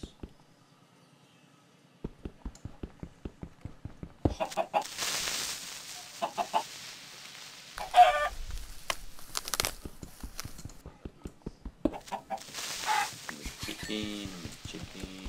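Chickens in the Minecraft video game give repeated clucks and squawks. Intermittent talk runs over them.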